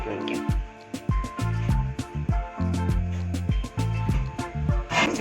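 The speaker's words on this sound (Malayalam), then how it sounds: "നമുക്കിത് വറുത്തെടുക്കാനുള്ള വെളിച്ചെണ്ണ ഇതിലേക്ക് ഒഴിക്കാം." Coconut oil trickles from a container into a pan: a rapid series of close, glugging drips and bubbly plops with a hollow, resonant tone, continuing unevenly for several seconds.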